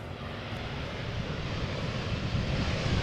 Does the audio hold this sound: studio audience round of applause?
no